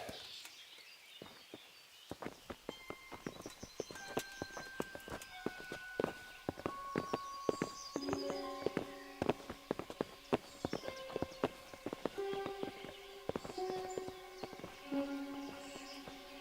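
Horses' hooves clip-clop on the ground in the medieval video game Kingdom Come: Deliverance, an irregular series of close, sharp knocks over a bed of musical and ambient tones.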